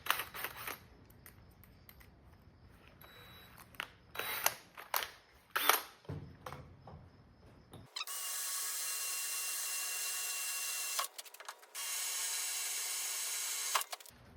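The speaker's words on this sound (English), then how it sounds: "So we opened them up by starting off with the small pilot drill bit." Power drill with a small pilot drill bit: scattered clicks and handling knocks, then a loud, steady drilling whine that runs for about six seconds with one brief break.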